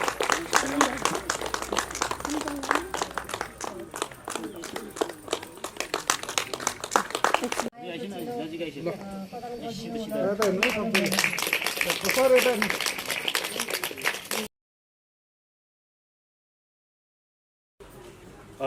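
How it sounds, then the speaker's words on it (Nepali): Applause from the audience at a Nepali gathering celebrating a recovery with a lunch, dense rapid clapping from many hands that changes character midway, then cuts to silence before a brief return. "जोरदार तालीको म आह्वान गर्न चाहन्छु"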